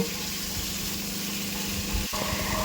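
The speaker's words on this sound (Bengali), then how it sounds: "এবার আলুগুলোকে দিয়ে আমি ভালো করে এগুলোকে অনেকক্ষণ ধরে ভেজে নেব" Potatoes for aloo dum fry in oil with a steady, close sizzle and a brief pause near the end.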